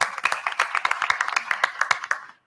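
A small group claps to welcome the next guest onto a technology panel. A few nearby pairs of hands produce crisp, irregular claps that fade out at the end.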